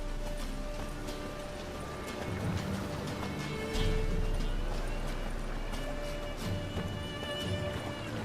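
Hooves clip-clop at a steady gallop from a horse in The Witcher 3 video game, continuous over a dense background of game ambience, with a brief snort or whinny partway through.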